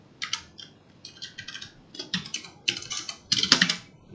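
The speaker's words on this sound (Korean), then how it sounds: "직접 이런 내용을 타이핑한다고 할게요" Rapid bursts of typing on a computer keyboard during a programming lesson on functions, close and clear, with short pauses between runs of keystrokes and no talking.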